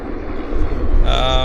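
A Bombardier Q400 turboprop on approach at Vancouver Airport gives a loud, steady engine drone that swells, then a high whining tone near the end, with a voice speaking over it.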